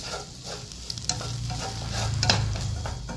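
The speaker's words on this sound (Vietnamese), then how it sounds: "Mình tiếp tục xào để cho nó khô nha các bạn." Small rice shrimp stir-fried with sesbania flowers in a hot pan, giving a steady close sizzle broken by scraping spatula strokes and a few sharp clinks, with no talking.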